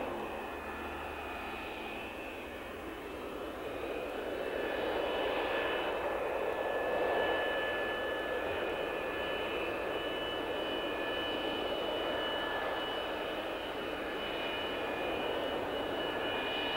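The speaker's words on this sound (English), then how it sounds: "the specially prepared F-15, which to save weight is not even painted except for the Streak Eagle badge, is rolled out onto the snow-covered runway" An unpainted McDonnell Douglas F-15 Streak Eagle jet sits on a snow-covered runway, its engines giving a steady, continuous roar with a high whine. The level holds even throughout, with no voices.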